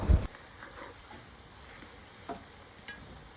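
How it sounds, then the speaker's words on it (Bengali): Hilsa fish curry with vegetables (taro stems, jackfruit seeds) stirred in an uncovered pan over high heat, with a soft steady sizzle and faint scraping after a brief loud knock at the start. "এবার ঢাকনা খুলে সাবধানে একটু নাড়াচাড়া করে দিচ্ছি।"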